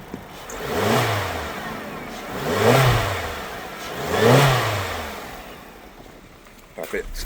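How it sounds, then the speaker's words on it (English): Suzuki SX4 engine revved while parked, recorded from outside the car: three distinct rev swells rise and fall in an even rhythm, followed by a quieter idle with a few light clicks. "I'll go ahead and give the vehicle a rev"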